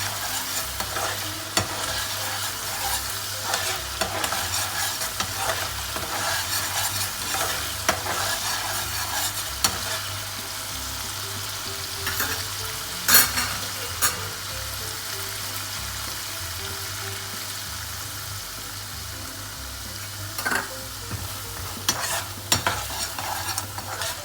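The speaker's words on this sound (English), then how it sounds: "you can feel the aroma of the garlic and ginger and chili getting cooked" Garlic, ginger and chili fry in a pan for a long, continuous stretch of close, steady sizzling, with occasional sharper clicks and spatters rising above the hiss.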